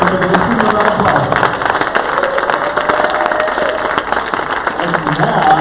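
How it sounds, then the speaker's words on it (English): A conference crowd applauds continuously, a dense wash of clapping that stays loud throughout, with voices faintly mixed in. "Let's give him a round of applause."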